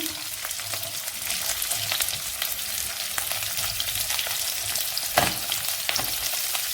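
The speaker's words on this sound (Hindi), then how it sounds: "वेजिटेबल्स फ्राई हो रही हैं" Mixed vegetables, olives and mushrooms fry in hot oil in a pan for white sauce pasta. A dense, even sizzle carries on throughout with scattered small crackles and one louder spatter near the end.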